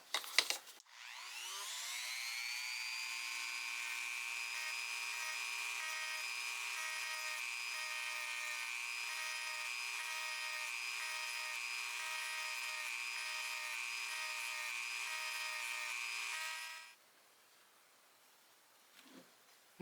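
A rotary tool spins up and runs steadily with a 320 grit sanding drum on the edge of a vintage Great Neck G-Series screwdriver, a loud, even high-pitched whine held for about sixteen seconds before it stops, with no voices.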